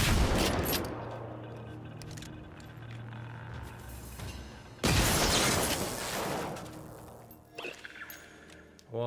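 Gunfire in the video game Generation Zero, bursts of shots and sharp booming reports over a dense rumbling backdrop, loud and close with a heavy blast midway and scattered cracks toward the end, no talking.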